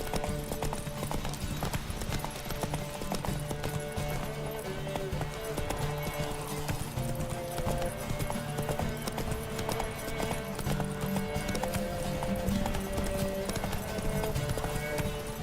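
Hooves of the horse Roach clip-clopping at a steady gallop in the video game The Witcher 3: Wild Hunt, with occasional whinnies over continuous game music, loud and constant throughout.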